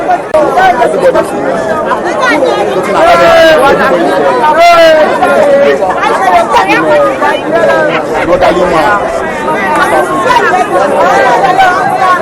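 A crowd of voters at a Nigerian polling unit on a 2023 general election day, a dense, steady babble of many voices talking at once, loud and close throughout.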